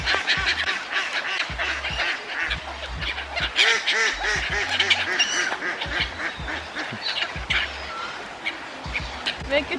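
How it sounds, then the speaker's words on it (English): Ducks quack repeatedly in short bursts at close to mid distance, outdoors in Denmark, with people chatting over the calls. "Duckies. They're so cute."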